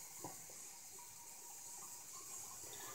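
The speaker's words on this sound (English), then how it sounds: "I'm just going to let the water go down the little holes" Water draining out through the small holes of a container, a steady soft trickling and splashing, close and fairly quiet with no talking.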